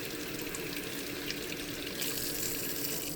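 Hot water runs steadily from a water heater, a continuous close hiss of flowing and pouring water with no gaps and a slight rise in brightness toward the end.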